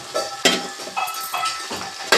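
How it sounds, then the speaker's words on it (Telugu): Green chillies and onions frying in hot oil in a kadai, a close crackling sizzle broken by several quick clinks and scrapes of a spoon against the pan. "ఆయిల్ హీట్ అయిన తర్వాత పచ్చిమిరపకాయలు వేసుకోవాలి"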